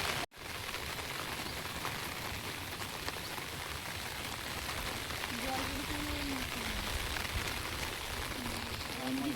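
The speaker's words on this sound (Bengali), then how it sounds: "আজকে বৃষ্টিও শুরু হয়েছে।" Steady, even rain falls outdoors beside a fish pond, a dense continuous patter with a brief faint voice in the background.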